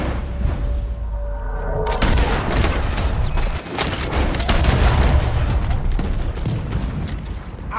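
Gunfire in the video game Red Dead Redemption 2, a dense barrage of rapid shots and heavy booms that erupts after a quieter opening and keeps going loud and close throughout.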